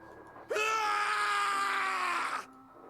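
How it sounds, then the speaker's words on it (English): A single long, loud anguished scream from the video game Zero Escape: 999 rises abruptly, holds strained and raw for about two seconds in an incineration chamber, then cuts off sharply. "His scream echoed through the incineration chamber, full of rage and despair."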